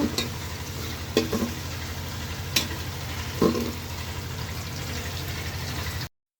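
Khichuri with green chillies and small diced potatoes fries in a pan with a continuous close sizzle, broken by occasional stirring scrapes and knocks of the spoon against the pan.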